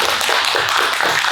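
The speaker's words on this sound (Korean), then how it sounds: "저희 먼저 강연을 박수로 청해보도록 하겠습니다." A seated audience at an evening book concert lecture claps together, a brief dense wash of many hands at moderate loudness with no talking.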